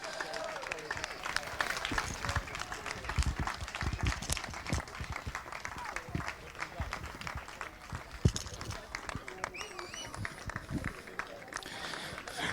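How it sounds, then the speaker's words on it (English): At a Honda Cadet kart race final, the crowd lets out a long spell of scattered applause and cheering as the drivers are led out onto the circuit. It is fairly faint and distant, with a commentator talking over it. "Let's have a round of applause, everyone,"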